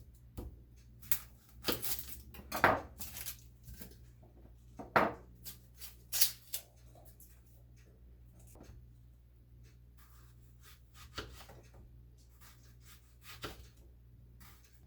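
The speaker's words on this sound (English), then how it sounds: "Now I'm going to slice up an onion" A big onion is sliced with a knife on a cutting board, giving a quiet, uneven run of crisp cuts and taps, with some brief rustling in between.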